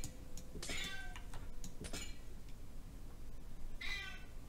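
A house cat meows several times close by, with two drawn-out calls near the start and another a few seconds later, over faint background noise while Minecraft is being played.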